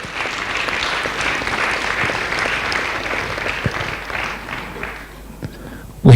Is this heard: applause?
yes